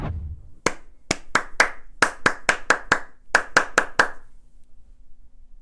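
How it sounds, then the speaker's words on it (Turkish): A rhythm pattern clapped by hand in a beginner rhythm-repetition lesson: fourteen crisp, close claps in grouped bursts with short pauses, then silence, no talking. "Şimdi alkışla veriyorum."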